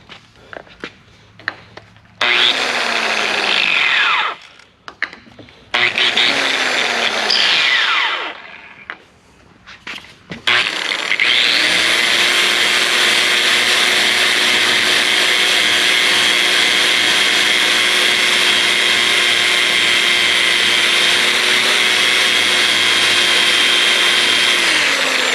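A big buffing pad loaded with green rouge polishes a Pontiac Mickey Thompson valve cover, a loud steady whine that runs on without a break after two shorter starts and stops.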